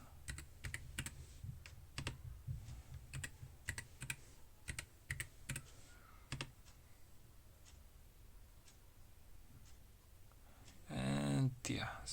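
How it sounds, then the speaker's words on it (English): Someone types a password on a computer keyboard, quick soft clicks in short bursts with pauses, close and quiet, ending in a brief louder rustle. "so we type current password, so Ubuntu again. And the new password."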